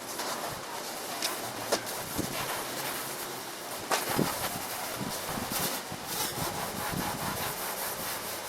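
Gray abrasive Scotch-Brite pad scrubbing a Volkswagen Vanagon Westfalia pop top, close rough rubbing strokes in an uneven back-and-forth rhythm, moderately loud, with occasional sharper scuffs and no talking.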